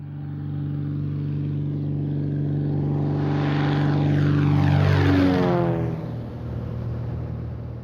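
The sheriff's propeller airplane drones loud and steady, its engine tone swelling as it passes close overhead around the midpoint, then dropping in pitch and easing off as it flies away.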